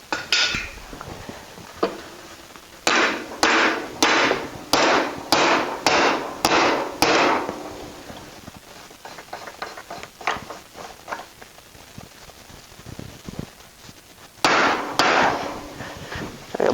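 Hammer blows on a tire bead being driven off a Golden Jubilee tractor wheel rim: a rapid run of about six sharp metallic strikes, then a quieter stretch of faint clanks, then two more loud hits near the end.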